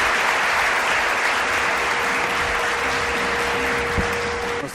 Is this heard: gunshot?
no